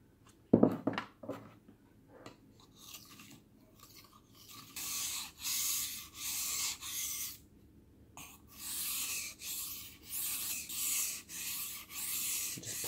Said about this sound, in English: This is a 2000 grit wet stone.